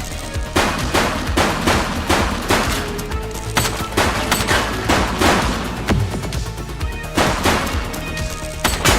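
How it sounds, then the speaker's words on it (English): Gunfire in a GTA police roleplay game: loud bursts of automatic fire and repeated sharp shots crack in rapid, uneven clusters throughout, close and dense, with crashing impacts mixed in. "Shots fired!"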